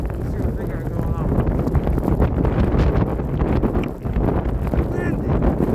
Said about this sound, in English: Windy. Pretty windy.